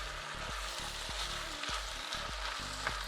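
Onions fry for a pie filling in a pan, giving a soft, continuous sizzle with faint low stirring thumps at a steady pace, quiet and close, with no talk.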